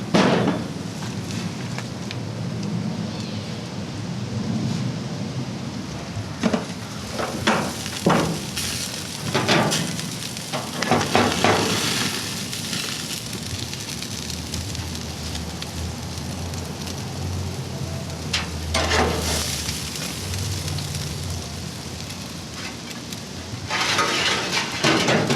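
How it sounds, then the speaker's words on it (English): A pea protein vegetarian burger patty with cheddar cheese cooking in a pan, a steady close sizzle with scattered crackles and pan clatter, no voices. "we're going to let it cook for 4 more minutes."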